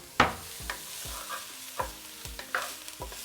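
Vegan saltfish ingredients brown in a pan, with a soft sizzle broken by several distinct scraping stirs of a utensil, close and fairly quiet, no talking.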